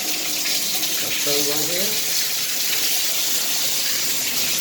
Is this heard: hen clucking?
no